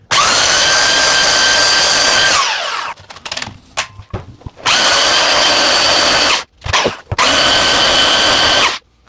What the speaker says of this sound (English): I use this, using just this belt sander.